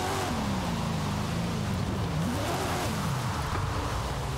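Steady engine drone of a Formula Drift car on wet roads in Forza Horizon 5, the pitch rising and falling as revs shift through a corner, loud and continuous with no talk.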